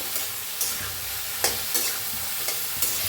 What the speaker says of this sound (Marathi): दोडकं हलवून मस्त भाजून घेऊया